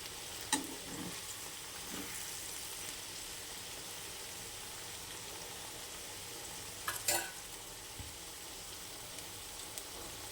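Chili powder stirred into ivy gourd curry in a pan, a faint soft sizzle running throughout with a few quiet scrapes and clinks of the spoon, sparse and low in level.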